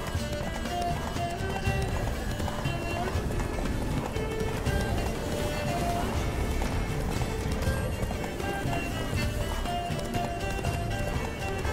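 Roach the horse galloping in The Witcher 3: steady, dense clip-clop of hooves with snorts and a whinny, loud and continuous under busy game ambience.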